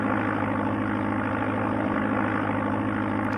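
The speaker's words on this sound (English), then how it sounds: "I know the plane sounds tired, doesn't it?" Continuous droning propeller-aircraft engine from the Amiga game Flight Simulator II, a steady, even hum with a low throbbing pulse running alone without pause.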